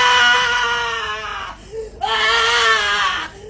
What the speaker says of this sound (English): a woman suddenly began screaming at the top of her lungs